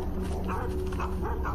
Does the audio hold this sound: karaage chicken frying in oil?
no